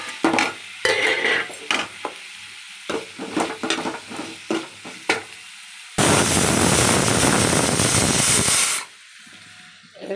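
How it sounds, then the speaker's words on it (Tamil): Drumsticks go into a pan of sautéed onion and tomato: a few clinks and stirring scrapes come first, then a loud burst of sizzling and steam hisses for about three seconds before it dies down. "முருங்கைக்காய் போடுறேன்."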